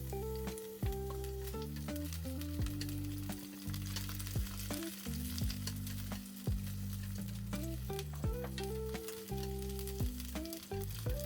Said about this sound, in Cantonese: 我哋準備好我哋嘅蒜片， 可以擺埋落去，開始煎香佢啦。